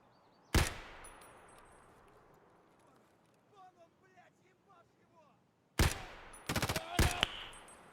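SKS rifle gunshots in the video game Escape From Tarkov: one sharp, loud shot, a quiet stretch with faint background sounds, then another shot followed by a rapid cluster of several more.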